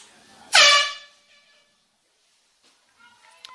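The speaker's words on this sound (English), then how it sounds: "Foghorn goes up." A loud air horn blasts once to end a quarter at a high school field hockey game, ringing out and fading over about half a second before quiet crowd ambience returns.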